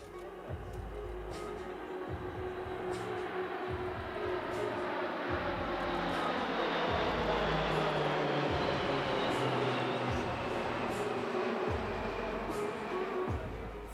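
Aerobatic Team Orlik aircraft in a multi-aircraft flying display at the Radom Airshow, a sustained, distant propeller drone that swells slightly and holds steady throughout, with low rumbles underneath.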